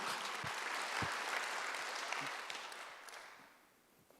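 A church congregation claps steadily in a broad wash of applause during a Sunday service, with a few sharper individual claps standing out, then it thins and fades near the end.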